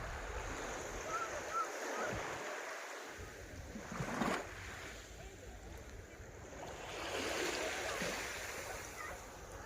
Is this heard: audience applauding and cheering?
no